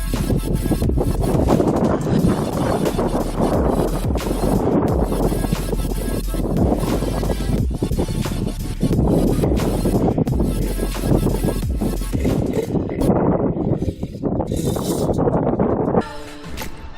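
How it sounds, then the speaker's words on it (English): Strong gusty wind buffeting the microphone outdoors in chilly, stormy weather, a loud continuous roaring rumble with no pauses, easing slightly near the end. "it's like tornado weather outside right now. Super windy, a little chilly"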